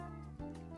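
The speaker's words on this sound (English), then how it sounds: "Excuse me if you can hear my cat just giving a speech in the background." A house cat meows somewhere in the background, a short drawn-out call that is faint and distant in a quiet room.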